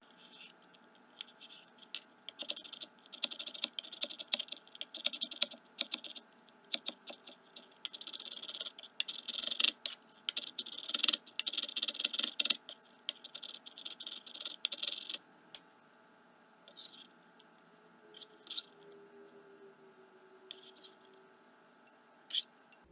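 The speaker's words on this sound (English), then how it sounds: "Finally, we'll cut up the celery." A knife cuts a small piece of celery on a cutting board, making a run of quick crisp taps and scrapes close by for about fifteen seconds, then sparser, fainter clicks.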